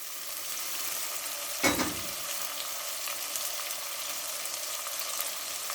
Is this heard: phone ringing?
no